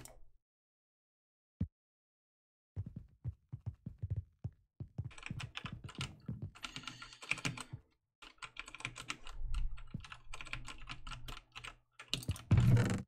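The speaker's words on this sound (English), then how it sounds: "I guess this is also kind of like ASMR, sort of, with my keyboard and mouse sounds" Computer keyboard and mouse clicks during gaming, starting with a few isolated taps and building into dense, rapid bursts of close-up clicking and typing.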